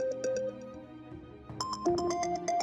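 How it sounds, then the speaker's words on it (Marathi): A mobile phone plays its ringtone nearby, a bright repeating electronic melody whose pattern changes partway through and keeps going without any talk over it. "तुझा फोन वाजतोय"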